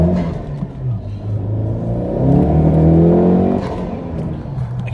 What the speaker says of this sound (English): Try to get one more pull in over here.